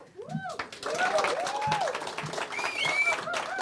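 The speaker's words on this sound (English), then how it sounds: "One more round of applause for both of our candidates." An audience at a mayoral debate in Sedona claps for the candidates, a moderate round of applause mixed with whoops and a few whistles, lasting only a few seconds.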